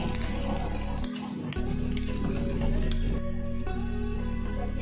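Ginger and onion sizzle and fry in a pan, with a spatula stirring and scraping against the metal. The frying hiss stays fairly quiet and constant, broken by clinks of the utensil.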